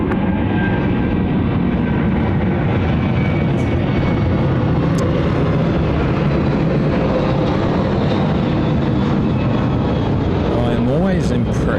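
An airliner landing on runway 34 left at Sydney Airport, a loud, steady jet roar filling the scene from start to end, with people talking faintly underneath.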